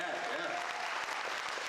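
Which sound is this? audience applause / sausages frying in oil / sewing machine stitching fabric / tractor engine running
audience applause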